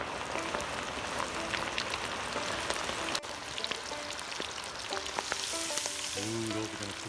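A batch of perch hits hot peanut oil and fries with a loud, dense, steady sizzle and crackle, up close, with background music rising near the end.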